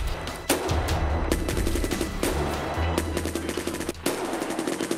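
Rapid automatic gunfire in the shooter game Escape from Tarkov, several loud close bursts of shots with sharp cracks in quick succession over a low background rumble.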